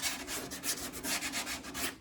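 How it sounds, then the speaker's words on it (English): Body filler on a Porsche 914 is sanded by hand before paint, giving a close, quiet run of rhythmic back-and-forth scratchy strokes, about a dozen in two seconds, with no talking. "So I rough it up wherever I'm going to be going over. That way it just doesn't flake off when you sand it."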